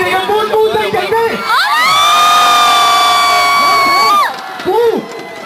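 A large concert crowd cheers and screams loudly, with shrill whoops and children's shouts swelling into a sustained roar before dropping back to scattered calls and voices.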